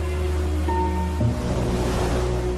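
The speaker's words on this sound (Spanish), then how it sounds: "Las fuertes olas devoran las rocas," Strong Atlantic waves crash against rocky cliffs on the coast of Ireland, a steady loud roar of surf with wind noise and no speech.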